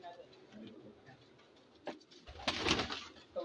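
Pigeons at a rooftop loft coo softly and steadily in the background, with a brief rustle or flutter midway and a louder burst of movement near the end.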